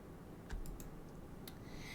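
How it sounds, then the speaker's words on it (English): A few quiet keypresses on a computer keyboard, several soft clicks spaced irregularly over two seconds, close and faint with no talk. "or you can just press F on your keyboard."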